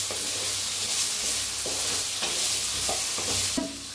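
Potatoes and moth beans roasting in a pan, with a steady dry sizzle and intermittent scraping stirs of a spatula against the pan bottom, close and continuous with no talk.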